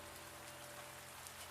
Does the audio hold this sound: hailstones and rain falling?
yes